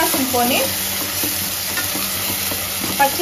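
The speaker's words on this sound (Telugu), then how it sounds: "వాసన పోయేంత వరకు ఆయిల్ అయితే ఫ్రై చేసుకుంటాం." Steady frying sizzle of ground masala in oil with spoon scraping and stirring in a pan, close and continuous, no talking.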